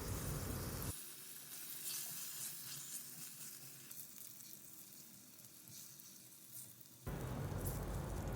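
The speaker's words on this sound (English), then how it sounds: "And on medium flame, we will fry them until they are well browned from all the sides." Boiled potatoes frying in a pan over a medium flame, a soft, steady sizzle heard close up, louder at the start and end and quieter through the middle, with no voices.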